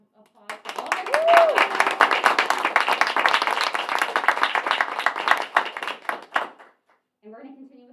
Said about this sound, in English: Let's give another round of applause for all of you.